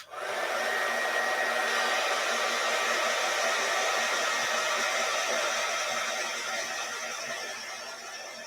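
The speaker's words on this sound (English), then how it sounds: "I'm gonna dry it with my heat gun." A handheld heat gun blows a steady, loud hiss of hot air to dry paint on a Christmas cardinal painting, running nonstop for several seconds at close range before easing slightly toward the end.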